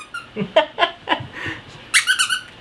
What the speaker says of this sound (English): Dog squeaking.